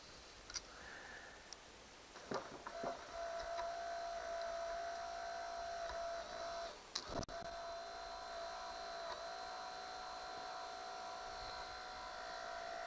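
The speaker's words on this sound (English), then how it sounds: "I'm going to try to connect the motor." A car windshield wiper motor wired up on a bench runs with a steady, fairly quiet electric whine and buzz, with a few sharp clicks and snaps early on as the connection is made.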